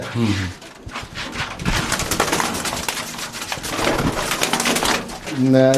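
Pigeons coo close by in low, throaty repeated calls while a person talks over them; one is a local club's champion racing pigeon.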